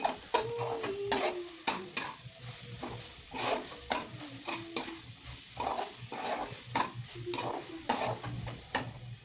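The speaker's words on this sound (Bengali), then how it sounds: "তো যার কারণে আমি হালকা আঁচেই ভাজছি, এটাকে নাড়াচ্ছি।" Coconut-filled puli pitha frying in a pan on low heat while being stirred, a steady soft sizzle broken by repeated scraping strokes of the spoon, close up with no voices.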